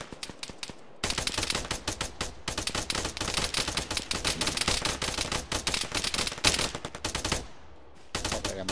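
Rapid automatic gunfire crackles through a military shooter game, dense bursts of shots rattling almost continuously for several seconds, broken by a brief pause and then resuming loud and close.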